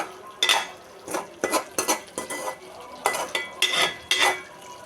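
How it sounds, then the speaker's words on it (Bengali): Fried eggs being stirred and turned in a pan while cooking down for egg korma, with a run of distinct scraping, clinking utensil strokes against the metal at an uneven rhythm, close and fairly clear, no talking. "ভেজে রাখা ডিম একটু নেড়ে সেড়ে কষিয়ে নিচ্ছি"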